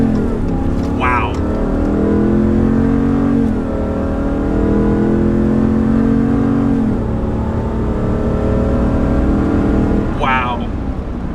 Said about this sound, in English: This truck did a burnout for like probably about 2 seconds.